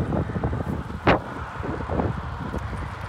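Steady wind roaring over a cyclist riding an Orbea Ordu road bike outdoors in a headwind, a constant broad rush buffeting the microphone, with one brief whooshing gust in the middle and no talk.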